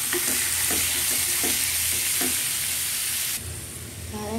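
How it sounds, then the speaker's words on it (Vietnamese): Purple shallots stir-fry in a hot pan with loud continuous sizzling, punctuated by regular scraping strokes of the spatula, close up; the sizzle drops slightly near the end, and there is no talking. "em dự định mấy củ hành tím này em xào lên"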